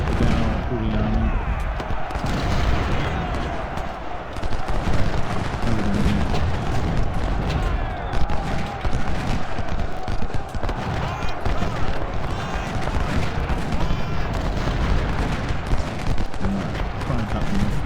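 Artillery fire in a Civil War video game, a steady stream of cannon booms and battle rumble over nearly eighteen seconds, layered with musket crackle and constant battlefield noise at a fairly loud level.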